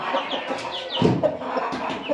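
A hen clucks in a series of short, close calls at an uneven rhythm, each one fairly loud, with no talking.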